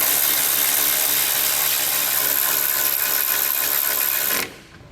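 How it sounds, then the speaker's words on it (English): Close, continuous whirr of a power driver with a T30 bit snugging factory fasteners on a 2019 Mini Cooper, running steadily for over four seconds before cutting off. "reinstall your factory fasteners. And we'll just snug these down with our T30"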